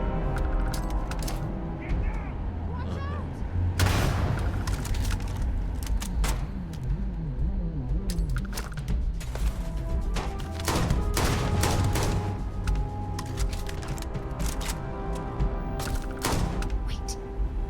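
Gunfire in the Starfield game, irregular sharp shots and volleys with occasional booms spread across a long stretch, moderately loud, with a voice now and then.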